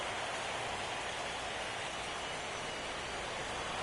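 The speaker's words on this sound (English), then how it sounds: "Well, Matt, the rain is really starting to come down" Heavy rain pours down on a ballpark in an MLB baseball video game, a dense, even hiss of falling water that stays steady throughout with no talk.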